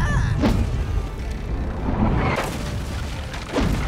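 Ship cannons firing during a naval battle in the video game Blackwake, heard as a few heavy booms spread across a dense, rumbling background of continuous low noise.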